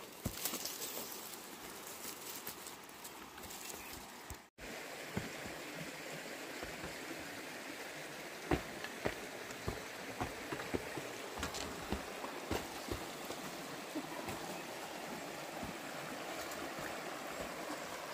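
A river rushes steadily through a narrowing channel in the wild, a continuous broadband flow with brief splashes and knocks, close and fairly loud with no talk.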